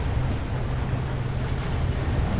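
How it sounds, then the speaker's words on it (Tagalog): Strong ocean waves surging against a shore on an island coast, a steady loud rush of surf and wind noise with no pauses, continuous throughout. "lumakas yung alon"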